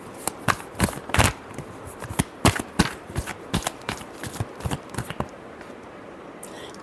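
A tarot deck is shuffled by hand, a quick series of sharp riffling slaps and card flicks at an uneven rhythm, close and fairly crisp, then a brief quiet tail.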